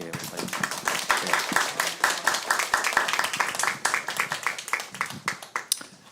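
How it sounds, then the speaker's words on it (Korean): A church congregation at a Sunday worship service claps in welcome for a missionary, a fairly sparse crowd of individual claps with distinct sharp hits, some falling into a loose rhythm, fading slightly toward the end. "우리 선교사님 나오실 때 우리 환영의 박수로 한번"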